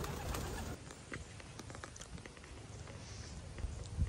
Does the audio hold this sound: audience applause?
no